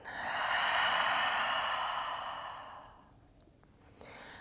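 A long, relaxed full-body exhale during a yoga session, a breathy sigh heard close up that swells early and then fades out slowly, followed by a quieter breath.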